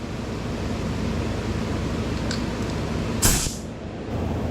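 A spray gun sprays acetone: a sharp burst of hissing spray rises suddenly and fades out over steady broadband background noise.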